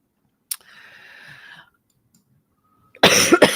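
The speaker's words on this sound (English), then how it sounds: "Didn't mean to cough in the microphone" A single sharp cough at close range, loud and abrupt right against the microphone, with a short second burst at the end; a faint high tone and quiet clicking sit between the sounds.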